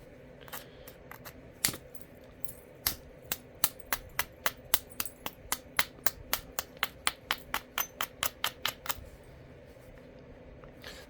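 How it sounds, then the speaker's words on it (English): Soft hammerstone striking the edge of a stone during flintknapping, a long series of sharp, close clicks, sparse at first then coming in a quick, steady rhythm of about two dozen strikes before stopping. "a nice soft hammerstone, because you can hear how it's just gripping that edge"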